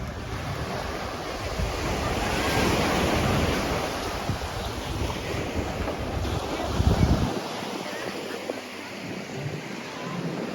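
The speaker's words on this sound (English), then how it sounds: "The tide is in, so there's not a whole lot of beach, but there's still quite a bit you can enjoy." Ocean waves wash steadily onto a beach on Koh Samet island, Thailand, a broad, continuous surf roar with wind buffeting the microphone and no voices.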